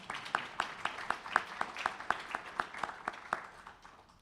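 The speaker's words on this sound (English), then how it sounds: "let's give them a round of applause, please" Applause from a small audience at a Tucson Hispanic Chamber of Commerce roundtable event, a steady run of distinct, evenly spaced claps at moderate volume with no talking over it.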